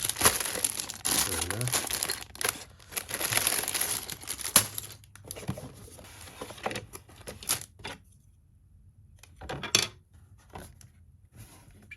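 Plastic bags of Lego pieces from a Speed Champions 1970 Dodge Charger R/T set crinkle and rustle up close in bursts, while someone speaks briefly between handlings, ending in quieter stretches.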